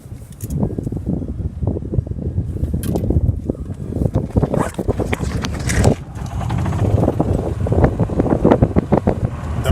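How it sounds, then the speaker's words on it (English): Strong gusting wind buffets the microphone on a golf course in blustery conditions, a loud continuous roar with irregular thumping bursts and no speech. "The wind is so heavy it's blowing the camera around."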